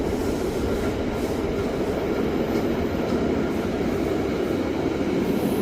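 Interior of the Furka Pass car-transport train carrying a Carado T132 motorhome, a steady loud rumble of rolling wagons and rail noise throughout with no voices.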